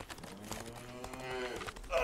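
A cow lows in the video game Last Village, one long drawn-out moo with rising and falling tone, fairly close and clear over quiet game ambience.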